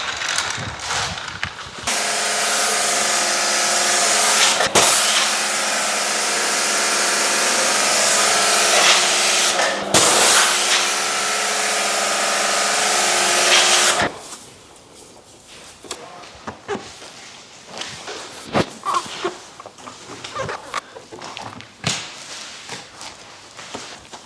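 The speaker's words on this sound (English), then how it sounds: "with this tool, the booty cleaner, you can actually rinse off with high pressure the undercarriage of the car" A loud, steady pressure washer sprays high-pressure water under a car's undercarriage, hissing for about twelve seconds with two brief pauses, then gives way to quieter scattered clatter and handling noises.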